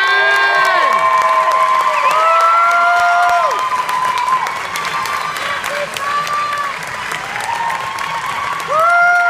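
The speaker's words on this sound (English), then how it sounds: "Ladies deserve a round of applause." Applause and cheering from a crowd at a fitness competition, loud and sustained, with whoops and high excited shouts rising over the clapping throughout.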